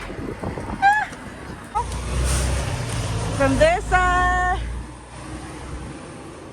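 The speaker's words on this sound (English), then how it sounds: "excuse those trucks passing by" Trucks pass by a truck lot during a pre-trip inspection, giving a low rolling rumble with rising and falling mechanical whines that swell and fade while someone talks over them.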